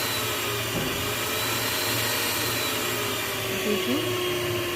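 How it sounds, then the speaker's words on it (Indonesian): Brand-new electric kitchen mixer whirring steadily at its high-speed setting, a continuous close motor drone with a faint shift in pitch near the end, while a person talks briefly over it. "Ini mixer baru, jadinya bunyinya masih sehat sekali"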